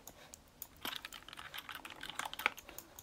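Computer keyboard keys are tapped in a quick, uneven flurry of close, crisp clicks during graphic design work, with a few sharper presses standing out.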